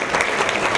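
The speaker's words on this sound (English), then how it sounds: "I think we give you a round of applause" Applause from an audience at a talk on student food and housing insecurity, a brief dense burst of steady clapping with a faint murmur of voices beneath.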